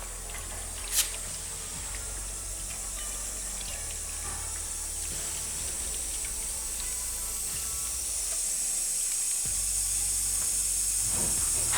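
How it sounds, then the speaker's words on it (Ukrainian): Water flows into a home heating system with an electric boiler as it is refilled, a steady hiss and rush of filling water that grows gradually louder, with one brief knock early on. "Відкрили всі краники позакривали ми Маєвського і напускаємо воду знову"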